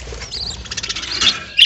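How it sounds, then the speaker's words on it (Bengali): Newly hatched baby birds chirp in a clay pot with a quick run of thin, high-pitched squeaky peeps, fairly close and busy, ending in a brighter burst of cheeping. "কিচিরমিচির শব্দ শুনতে পাচ্ছেন।"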